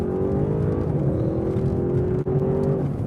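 A 2021 Audi RS7 pulls hard under acceleration, its engine tone climbing in a smooth rising whine with a brief dip as it shifts, a muted, strong surge without voices.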